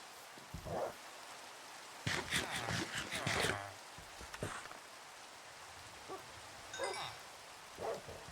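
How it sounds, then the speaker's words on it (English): Rain falls in the video game Minecraft, a soft steady hiss behind scattered voices and brief bursts of other game sounds. "Oh, but it's raining."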